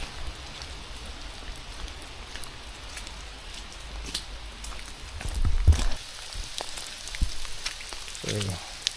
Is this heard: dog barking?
no